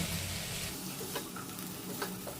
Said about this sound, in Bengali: দেখুন সমস্ত ভেজিটেবলসগুলো হালকা করে ফ্রাই হয়ে গেছে